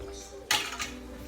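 A spoon stirring tomato paste into a pot of bolognese sauce gives a single sharp metallic clink against the pot, followed by a faint scrape, over quiet background hum.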